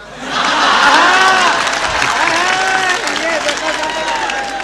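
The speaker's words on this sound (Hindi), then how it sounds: "जो ज्यादा ताली पीटेगा हम होंगे आभारी, पीटो शर्मा और तिवारी" Applause and clapping from an audience at a mushaira poetry recital, a loud sustained roar of many hands with some cheering mixed in, steady for the whole stretch.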